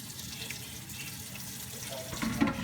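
Tap water runs steadily into a cooking pan for slow-cooked chile verde, a continuous close splashing rush that swells slightly louder near the end, with no talking.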